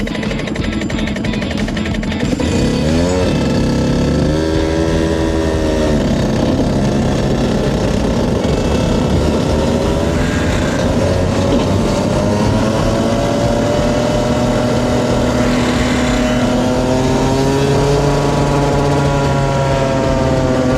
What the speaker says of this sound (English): The engine sounds weird, like really weird.